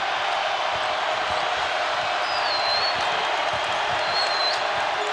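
A Houston basketball arena crowd makes a steady, loud roar of cheering and noise that continues throughout, with no break or clear peak.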